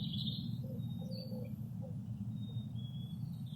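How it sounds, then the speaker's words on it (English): Faint birds tweeting in the distance, a few thin chirps over a steady low hum. "Hear the birds tweeting?"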